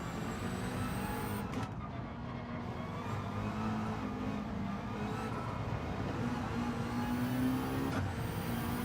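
A GR3-class race car in the Gran Turismo 7 racing game, with notably weak brakes, gives a continuous loud engine and road roar that holds steady throughout, with no voices.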